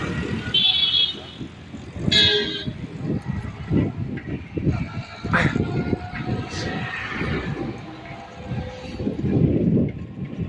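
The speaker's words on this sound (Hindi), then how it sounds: "देखा, यहाँ भी गाड़ी आ रही है।" A vehicle passes along a road, its engine rumbling loudly and close with a couple of short horn toots near the start, while voices talk throughout.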